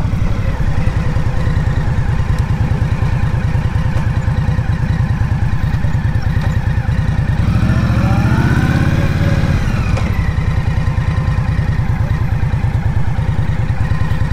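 A 2023 Indian Scout Bobber motorcycle rides at low speed, its loud close engine thrumming steadily throughout, with a brief rise in revs midway before it settles back to a low rumble.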